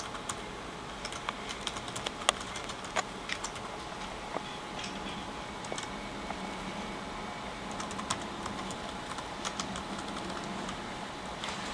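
Keys on a computer keyboard are tapped in an irregular patter of light, close clicks against a quiet background.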